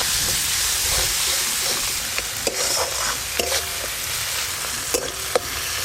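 Mustard, poppy seed and dried chili paste with turmeric and salt frying in oil over a clay stove: a loud continuous sizzle and hiss with scattered stirring scrapes and taps, close up, no talk.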